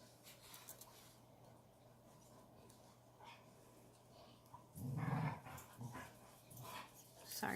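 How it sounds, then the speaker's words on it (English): Dogs pant, growl and give short barks in the background, faint at first and then louder in a burst of activity near the middle, with quieter bursts continuing after. "Sorry about the dogs in the background."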